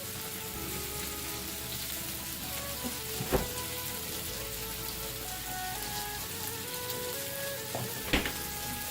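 Teriyaki meatballs frying in a pan as teriyaki-style sauce is added: a steady, close crackling sizzle throughout, with a couple of brief louder spatters and clatters, no talking.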